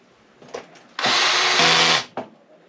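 A power drill on its lowest setting whirs steadily for about a second, driving a screw into an arcade machine, with faint clicks and handling noises just before and after.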